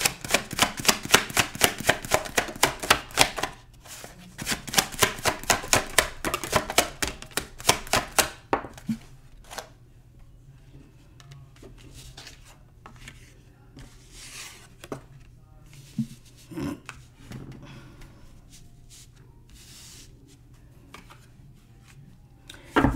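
Tarot cards are shuffled in a rapid, loud, close riffling burst for several seconds, followed by quieter card handling and soft taps as cards are drawn and laid out.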